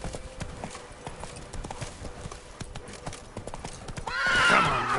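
Roach the horse in The Witcher III: Blood and Wine, hooves clip-clopping in a steady galloping rhythm, then a loud, close neigh bursting out near the end.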